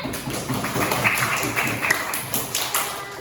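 Children in a primary school classroom clap together at the end of a lesson, a steady, dense patter of many hands that holds at an even level for a few seconds, with faint voices underneath.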